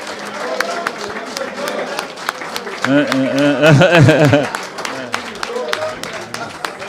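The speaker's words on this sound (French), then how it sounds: "Sous vos applaudissements." Applause and crowd noise at a CAN Beach Soccer trophy ceremony, a steady patter of clapping with a voice calling over it and a louder vocal swell in the middle.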